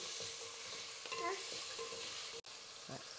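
Masala for chicken mandi being stirred in a pan, with a soft, continuous sizzle and faint scraping strokes at a distance and a brief dropout near the end.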